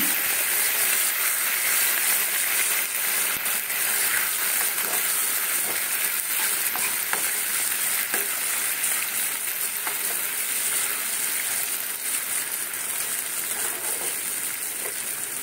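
A sauce blended from three kinds of sauce hits a hot pan of meat and sizzles loudly and steadily up close, a dense hiss with scattered small pops that eases slightly toward the end, with no one speaking.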